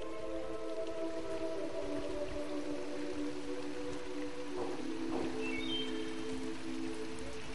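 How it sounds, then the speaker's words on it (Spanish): Steady rain hisses and patters in a Pacific rainforest, a continuous soft wash with faint tonal calls sounding in the background. "Por ser la parte más alta y estar rodeada de bosque lluvioso, la precipitación es incesante."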